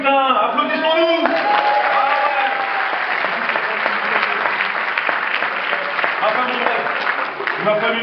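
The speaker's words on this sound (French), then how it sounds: "Applaudissons-nous" A stand-up comedy audience breaks into loud, sustained applause, with the performer's voice briefly audible at the start before the clapping takes over.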